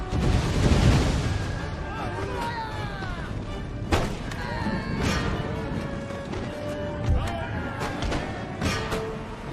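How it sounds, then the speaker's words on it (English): Grenade explosions in the Empire: Total War video game, a heavy blast at the start followed by several sharper thuds and crashes in a noisy battle, with someone speaking over them. "Come on, let's get some good grenades in there"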